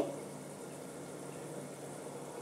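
White oil poured over rice cooking in a pot, a steady soft bubbling and sizzling hiss that stays even and quiet throughout, with no speech.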